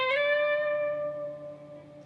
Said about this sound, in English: you're going to push that note up and down the neck, creating a vibrato